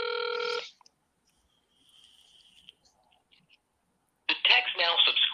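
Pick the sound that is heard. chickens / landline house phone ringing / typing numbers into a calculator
landline house phone ringing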